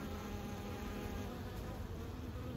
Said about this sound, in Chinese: 有十只蜜蜂回来，只有一只带粉